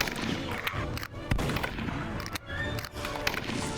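Gunfire at a wyvern in a video game, repeated sharp shots scattered irregularly through the clip among busy combat noise, loud and close.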